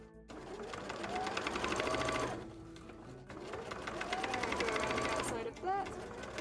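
A sewing machine runs in two long stitching bursts with a brief pause between them, its rapid mechanical whir close and steady, with quiet talk over parts of it.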